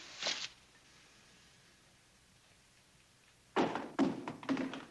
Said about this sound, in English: Now throw your guns down.